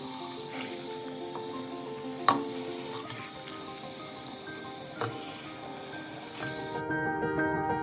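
Water splashing and running over a dirty plant pot as it is washed, a steady wet hiss with occasional sharper splashes and knocks, close by, with a brief quieter moment near the end.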